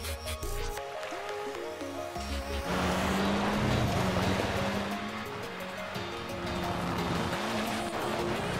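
Car drifting with tire squeal in Forza Horizon 4, a racing video game, set in spring. A loud, steady engine roar with a sustained screech runs through the whole stretch, swelling in the middle, with no talk.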